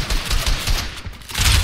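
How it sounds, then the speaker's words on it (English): Rapid bursts of gunfire in a Fortnite zone wars match, dense and continuous, crackling throughout with a louder flurry at the end, no talk over it. "Someone's shooting in!"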